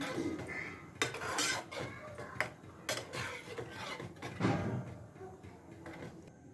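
A spoon scrapes and clinks around a pot of yogurt buttermilk curry for Rajasthani gatte ki sabji, giving irregular close knocks and metallic taps over a low simmering background.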